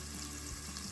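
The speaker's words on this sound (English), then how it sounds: "I love that sizzle." Food frying in a pan sizzles with a soft, continuous crackle, close and fairly quiet, with no voices over it.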